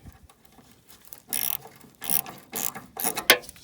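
A ratchet wrench undoes a 7 mm ground bolt on a 1983 Oldsmobile Cutlass fuel tank, giving four short bursts of quick clicking, close and fairly quiet, with no talk.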